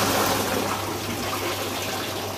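Water rushes steadily over a weir in a hydraulic flume in a laboratory demonstration, a loud, continuous broadband wash with no break or talk.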